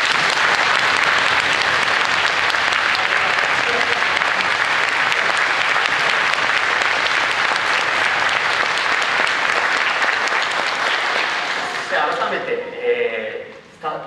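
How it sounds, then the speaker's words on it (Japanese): A concert audience at a Spirited Away music and narration performance breaks into loud, sustained applause that fills the hall for about twelve seconds, then thins into scattered claps. "彼にも拍手をお願いします。"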